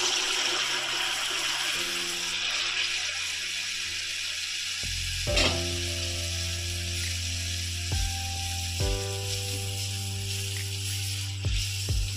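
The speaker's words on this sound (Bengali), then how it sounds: "তারপর দেখুন ভেজে নিচ্ছি" Palm-fruit pitha cakes deep frying in oil, a soft continuous sizzle with bubbling that swells as more batter goes in, alongside a low steady hum in the background.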